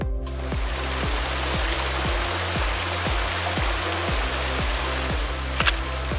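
A waterfall in a natural landscape pours steadily, a continuous broadband rushing roar with an even, unbroken texture, heard alone without voices.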